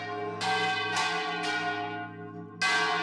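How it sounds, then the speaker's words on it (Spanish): Large swinging church tower bells ring in Utrera, Spain, with several loud, clanging strikes that leave long, ringing tones between hits. "These are very, very dangerous bells. They're flying up there."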